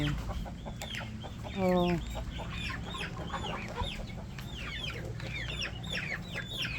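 Chickens cluck steadily at close range, with a brief louder squawk early on and a short spoken exclamation over the flock.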